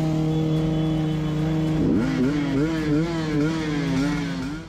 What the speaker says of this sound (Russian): Хорошо, что звук мотоцикла отпугнул косолапого